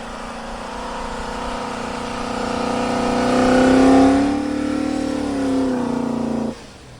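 An off-road vehicle churns through deep snow ruts and drifts, its engine droning at mid distance and rising to a strained rev near the middle before easing off and cutting down at the end.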